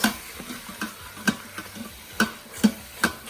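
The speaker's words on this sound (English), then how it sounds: "you make sure stir so that way all the sauce, everything, so it doesn't stick underneath the pot" A spoon stirs braised pork and eggs in sauce inside a pot, giving a close, irregular series of sharp clicks and taps against the metal over a soft bubbling background.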